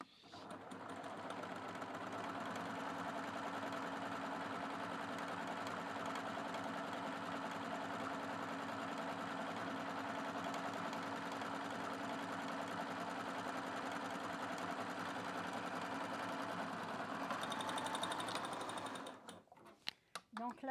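A Baby Lock sewing machine stitches a seam in one steady, close whirring run at even speed, then stops near the end with a few small clicks; faint talk may sit under the motor.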